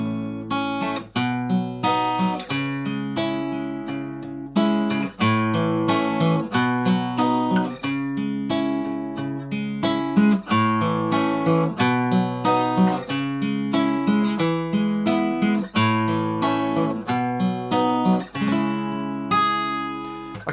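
A solo acoustic guitar strums the chords of a song. Rhythmic strummed chords ring out close and clear at a steady tempo, with no voice.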